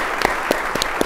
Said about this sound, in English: join me in a big round of applause for our panelists